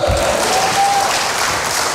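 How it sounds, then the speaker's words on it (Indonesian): A church congregation claps during a worship service, a dense, loud wash of applause filling the space evenly from start to finish with no voices over it. "ini tepuk tangannya kurang mantap, saudara"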